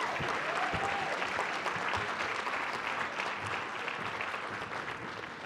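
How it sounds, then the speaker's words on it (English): A banquet audience at a Martin Luther King celebration applauds the winners with sustained, dense clapping that stays loud and even, easing only slightly toward the end. "And then let's have another round of applause for both of our winners."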